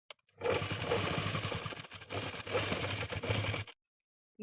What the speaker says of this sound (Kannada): ಆ ಥರ ನಾವು ಇಟ್ಕೊಂಡು ಸ್ಟಿಚ್ಚನ್ನು ಮಾಡ್ಕೋಬೇಕು